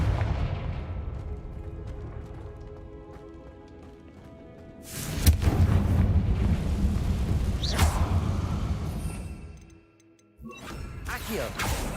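Confringo and Bombarda blasting spells go off in Hogwarts Legacy, a loud burst of booming explosions with crackling debris in the middle, a brief lull, then another blast, over a low rumbling game soundscape.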